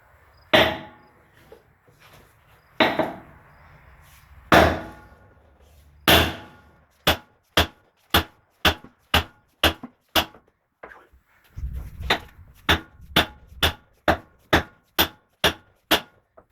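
A hammer smacks the axle of a John Deere 2440 tractor, starting with a few heavy isolated blows and then settling into a fast, regular run of sharp metallic strikes, loud and close, with no talking.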